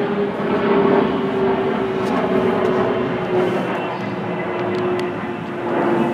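A jet aircraft passing overhead above a garden, a steady broad roar with a faint droning tone, moderately loud and sustained throughout with no talk.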